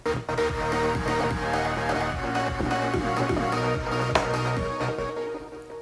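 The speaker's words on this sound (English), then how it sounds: "when I go to play back the song in that project file, it sounds like this" Unmixed playback of the electronic track runs steadily with a loud, dense beat, pounding kick and sustained tonal layers, no voices over it.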